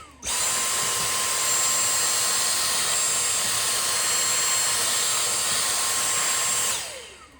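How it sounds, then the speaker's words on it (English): A vacuum cleaner runs steadily for about seven seconds while cleaning around a model railway layout, a loud continuous whine with a high-pitched tone that starts abruptly and winds down at the end, with no talking. "And then I follow that up with the vacuum cleaner."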